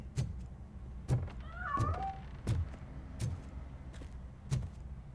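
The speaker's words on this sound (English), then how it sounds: "That cat must be hiding inside." A cat in the video game RoboCop Rogue City gives a short meow midway through, heard over regular heavy footsteps thudding in a steady rhythm.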